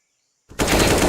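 Rapid AK rifle fire in a competitive shooter match, a loud close automatic burst that starts abruptly after a short quiet lead-in and runs continuously to the end.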